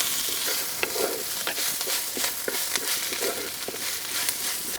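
Ginger garlic paste fries and sizzles in a pan for a Rayalaseema-style dry mutton curry, a constant loud close sizzle with frequent stirring scrapes throughout.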